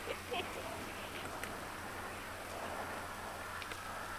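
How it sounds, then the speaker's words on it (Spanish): Steady soft rain in a video game hisses continuously at low volume, with a faint low hum underneath and a few small taps standing out. "Está lloviendo."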